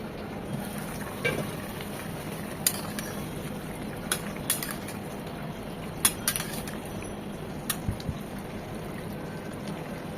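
Eggplant and tomato cooking in a pan for a fish stew, a soft continuous sizzle and bubbling with sparse utensil clicks and taps scattered through.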